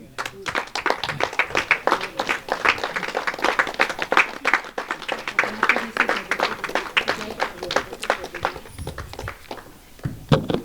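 An audience applauds at a birthday anniversary celebration in a spiritual gathering, bursts of many hands clapping in uneven rhythm close by, with voices murmuring under the applause.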